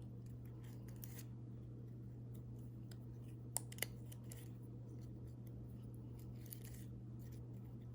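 Precision scissors make a couple of faint, close snips while cutting petals for a small paper flower, with quiet clicks over a low steady background hum.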